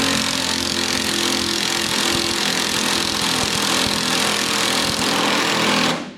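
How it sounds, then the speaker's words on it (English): An impact wrench fitted with a chrome socket hammers at a bolt during a Fordson tractor restoration, a loud, continuous rattling buzz that runs steadily for several seconds before stopping abruptly, with no voices. "I know it's a chrome socket on an impact"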